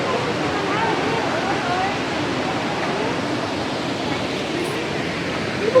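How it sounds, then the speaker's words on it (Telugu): A waterfall in Maredumilli with strong water flow gives off a steady, dense roar of rushing water that stays even and unbroken from start to finish. "వాటర్ ఫాల్ ఫ్లో ఎక్కువగా ఉంది."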